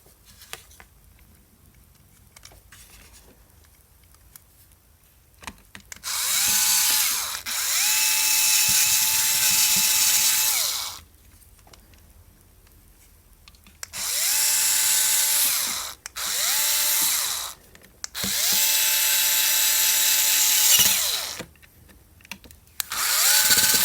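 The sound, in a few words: electric screwdriver driving screws on a Remington shaver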